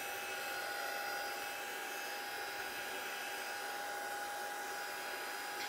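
Steady, loud whooshing drone of a heat tool blowing continuously across Distress ink on a mixed media craft project, close to the microphone and unbroken throughout.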